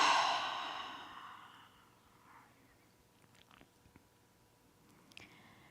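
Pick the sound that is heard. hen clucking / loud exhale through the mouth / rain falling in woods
loud exhale through the mouth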